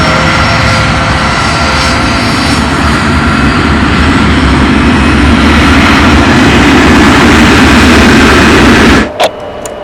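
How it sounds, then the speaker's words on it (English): Avro Arrow jet engines run at a loud, sustained roar before takeoff. The roar holds steady for about nine seconds, then drops away abruptly near the end. "Avro Tower, we're lit up, ready for takeoff in about 30 seconds."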